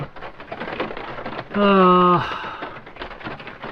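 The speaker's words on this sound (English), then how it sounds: "Sitting over here by the door watching the rain fall." Steady morning rain patters close by outside a camper van door in Savoy Mountain State Forest, Massachusetts, while a voice briefly hums or speaks a sustained tone partway through.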